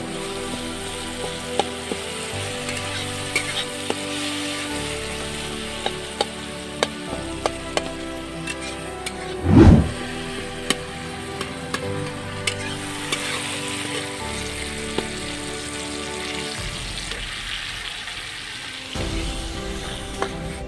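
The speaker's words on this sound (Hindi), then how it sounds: "देखंतु से केमति चिकन रांधि तो मु देखै दोछि" Chicken frying in a pan in a small home kitchen, a steady close sizzle with occasional stirring clatter and one brief louder scrape, with no talking.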